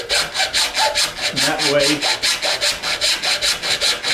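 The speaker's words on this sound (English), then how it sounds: "this is a 4-inch PVC pipe, and we need to cut it to 4 feet long. So Miss Hadley right here is going to start sawing." A hand saw rasps back and forth through 4-inch schedule 40 PVC pipe, a loud close rhythm of about two strokes per second. A person speaks briefly midway.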